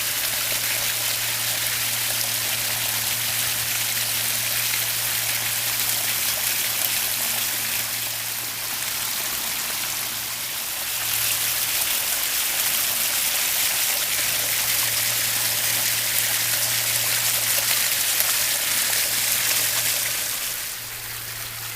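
A backyard pondless waterfall pours over a stone and drains away into gravel, giving a steady close wash of splashing and trickling water with a faint low hum underneath.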